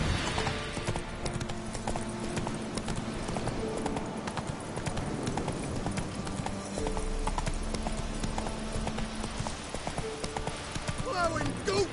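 Hooves clip-clop steadily as a horse rides through The Witcher 3, the rhythmic beats running loud throughout over game music, with an occasional whinny and voices talking over it.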